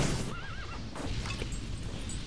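A cavalry horse in the Toy Soldiers video game lets out a clear whinny over dense, constant battle noise, with hoof clip-clops mixed in.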